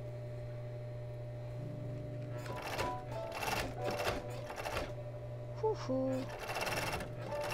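A sewing machine blind-stitches the hem of a sweater dress in quick, intermittent bursts of rapid whirring and clatter over a steady low motor hum, with a soft voice making a brief sound.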